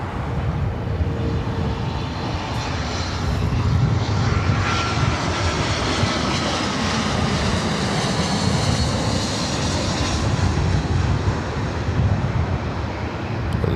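Steady, loud roar of an America West Airbus A319 airliner's jet engines at LAX, a broad rumbling wash that holds nearly constant with slight swells, with wind buffeting the microphone.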